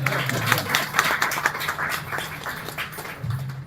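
An audience claps during a lecture, a short scattered patter of hand claps at moderate distance, with a low voice murmuring underneath.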